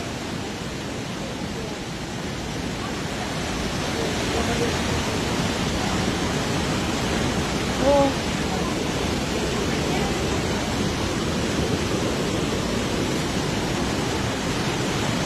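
Glacial meltwater plunging through Trümmelbach Falls, a steady, dense roar of rushing water that fills the whole clip at constant loudness, with a faint voice briefly audible around the middle.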